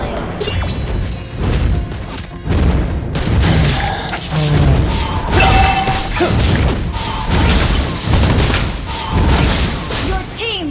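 In a team battle video game, a turret is destroyed amid dense, loud crashes, booms and whooshing effects. Game voice cues and chatter sound over the continuous action.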